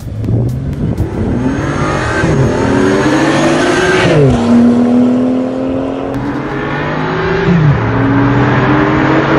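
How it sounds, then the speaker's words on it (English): A BMW i8 and a BMW 335 race side by side, engines loud and close, revving hard and climbing in pitch through several gear shifts for the whole stretch. "I'm actually gonna race Jonathan's 335 right now"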